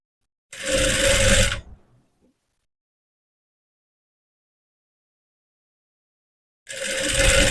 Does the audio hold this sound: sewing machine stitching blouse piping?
yes